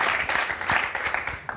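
Studio audience applauding for a singer as he presents his album on an Algerian TV talk show, a steady burst of dense clapping heard up close with no talk over it.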